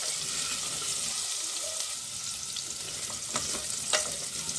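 Grated carrots fry in a pan for carrot halva, giving a continuous bright sizzle with occasional scraping stirs, close and steady throughout.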